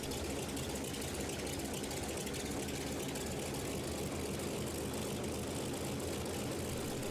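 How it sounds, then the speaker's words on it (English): A Sanders-modified Hawker Sea Fury fighter with a Pratt & Whitney R-4360 radial piston engine runs in a loud, steady, unbroken roar that fills the whole clip without any change in level. "Powered by the mighty Pratt Whitney R-4360 radial engine,"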